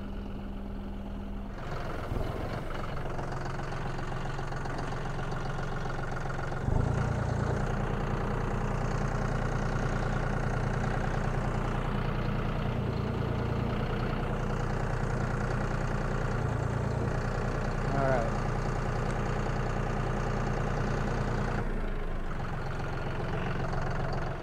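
A tractor engine idles steadily while being repositioned on a farm, a continuous low diesel rumble with slight shifts in load partway through, close by and uninterrupted by talk.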